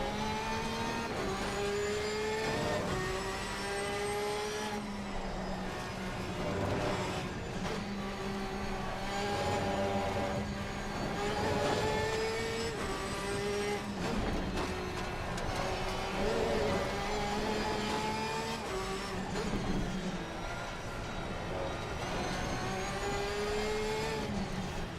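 Race car engine in a racing sim on the Nordschleife, driven on a new wheel, a steady loud howl that rises and falls through repeated gear changes and revs for the whole stretch, with no talk.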